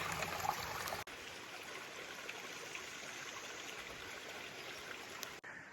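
Mountain spring stream trickling beside the Appalachian Trail, a steady close rush of running water with bright splashing, continuous throughout with two brief dips.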